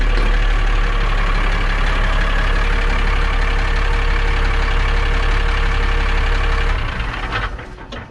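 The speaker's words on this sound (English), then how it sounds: "Right, let's have a look at this engine then, Charlie." An old tractor engine idles loudly and steadily with a low, throbbing rumble, close up, then eases off near the end.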